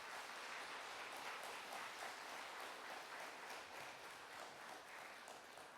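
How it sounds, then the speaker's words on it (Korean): A church congregation applauds during a Sunday service, faint but steady clapping spread across the room and continuing throughout without any voices on top. "우리 모두 박수로 환영하고 또 축하해 주시기 바랍니다"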